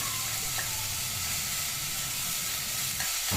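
Curry leaves sizzle in hot oil for mint rice, a steady soft crackle and hiss in a pan, with a faint clatter near the end.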